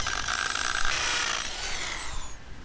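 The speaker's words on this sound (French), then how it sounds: "Là aussi, commence par pré-percer avant de percer totalement." A power drill pre-drills a hole in a wall while a wooden fence is being built, a loud close whine that shifts pitch as the bit bites in, with no talk over it.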